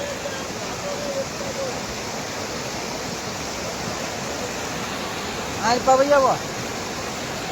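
Water rushes steadily as it overflows from a village lake, a broad continuous roar close by, with a voice calling out briefly near the end.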